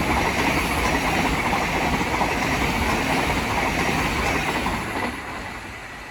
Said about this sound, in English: The next train to pass by is going to be a Thameslink Class 700 from London Bridge to Brighton.